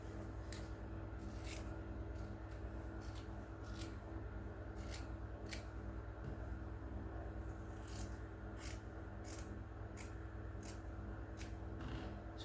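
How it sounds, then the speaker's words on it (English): Scissors cut fabric for a gown in a series of faint, irregular snips over a steady low hum, each crisp cut spaced about a second apart. "then I'm going to go ahead and cut this out"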